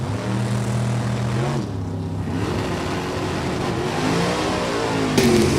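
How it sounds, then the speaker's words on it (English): Drag racing at New England Dragway, a 1967 Camaro against a Chevrolet-powered 1985 Porsche, with loud continuous engine roar that dips briefly and then swells again as the revs climb, no voices. "taking on Keith Mayer's 85 Porsche, Chevrolet powered"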